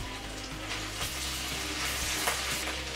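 Cumin seeds and ginger paste sizzling in melted butter in a heated kadai for palak paneer, a soft steady hiss with faint crackles and a low hum beneath, quiet and close, no speech.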